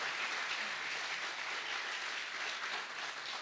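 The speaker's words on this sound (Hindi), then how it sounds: "आप सब लोग एक बार जोरदार ताली बजा सकते हैं इस प्रेरणा के लिए" Sustained audience applause at a Delhi University interview event, a dense, steady wash of clapping from a large crowd that continues evenly throughout without talk over it.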